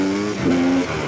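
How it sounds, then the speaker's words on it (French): A 20-year-old motorcycle engine fitted in a new bike revs up sharply, a close, loud engine tone that climbs then settles, over about a second. "Oh putain, le moteur, il est réactif, hein."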